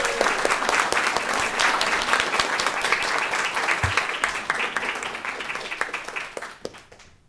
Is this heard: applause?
yes